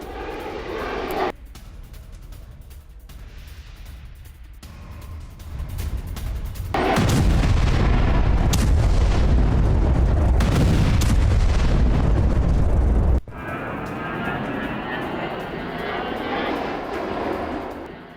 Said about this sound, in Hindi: Su-34 ने ताबड़तोड़ मिसाइलें गिराई।